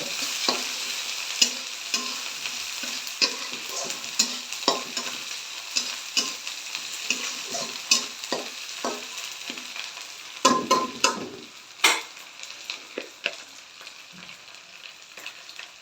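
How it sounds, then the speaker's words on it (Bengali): Dried fish softened by soaking, stirred and fried in a pan with onions, giving steady sizzling with repeated sharp scraping clicks of the spatula, close and continuous with no voices. "মাছগুলো একটু ভাজা ভাজা করে নেই"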